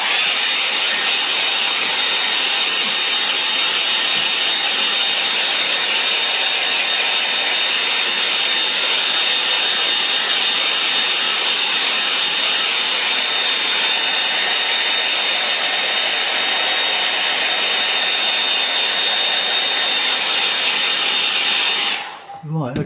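A hair dryer blows on a watercolour painting, a loud, steady, close whooshing roar with a high whine that holds for over twenty seconds before cutting off abruptly.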